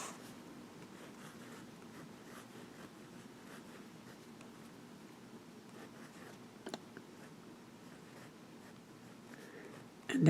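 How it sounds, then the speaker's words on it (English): Fine-nibbed Pilot Prera fountain pen writing on paper, producing a faint, continuous scratchy rustle of nib strokes, steady and close throughout, with a small click near the end. "So let's do some writing here."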